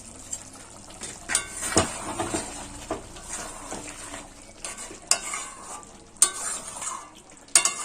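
Chicken kosha being stirred in a pan, spatula scraping and knocking the metal in irregular strokes over a soft, steady sizzle of frying meat, close and alone.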